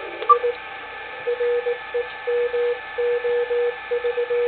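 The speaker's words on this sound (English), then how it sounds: "now I'm going to use the audio peak filter." Radio signals through an Elecraft K3 transceiver with its audio peak filter engaged: a narrow, pure tone keys on and off in a rhythmic run of Morse-like dashes and dots over a steady hiss, fairly loud and alone.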